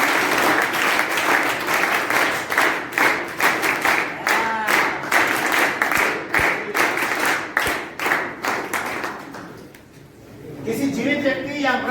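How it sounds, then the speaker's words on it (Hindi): A classroom audience applauds a child in a steady run of rapid clapping that lasts about ten seconds before it fades. Scattered voices are heard near the end. "और ताली कैसी बजेगी?"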